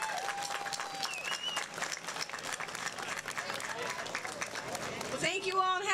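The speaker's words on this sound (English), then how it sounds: "help me to give a round of applause for all our veterans today" An audience at a July 4th outdoor concert applauds for veterans, a dense sustained clapping with crowd cheers, moderately distant, ending as a voice begins talking.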